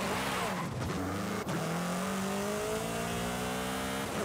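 An Alpine A110 in the racing game Forza Horizon 5 brakes hard, its engine note sliding under a steady tire squeal that stays loud and continuous throughout.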